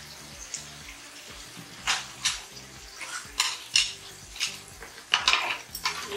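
Samgyupsal pork fat sizzles on a griller, spitting in sharp, crackling pops that burst irregularly over a quiet background hiss, close by and without talk.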